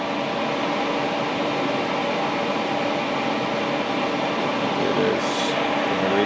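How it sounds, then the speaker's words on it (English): AC refrigerant recovery machine evacuating the system of a Chevy Colorado, Hummer or GMC Canyon, a steady loud broadband hum running alone without a break. "I have a machine, so we're going to go ahead and get going on evacuating the system"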